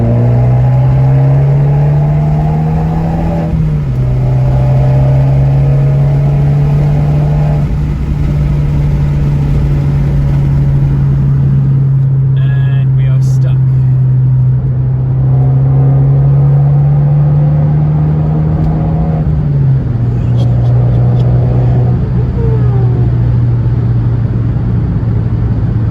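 A 2018 Abarth 595 Turismo engine revving hard under acceleration while driving, a loud steady droning growl that climbs in pitch and drops at gear changes, heard from inside the car with no talking.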